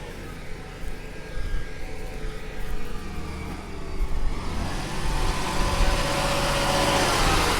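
A John Deere 8RX tracked tractor backing up with a seven-leg, 3.8-metre subsoiler, its engine a steady near rumble that swells gradually in loudness and hiss, with no talk.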